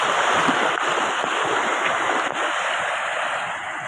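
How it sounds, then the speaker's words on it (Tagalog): Sea waves rolling in at high tide at night, a steady broad wash of surf with some wind noise, continuous and fairly loud with no speech. "High tide ang dagat."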